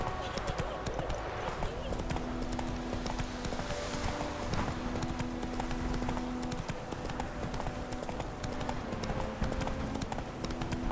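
Steady clip-clop of horse hooves on a hard surface in The Witcher 3: Wild Hunt, continuous and mid-distance, with game ambience and a faint whinny.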